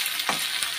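Onion frying in a pan gives off a close, steady hiss of sizzling oil for under a second, with a couple of brief stirring swells and no voices.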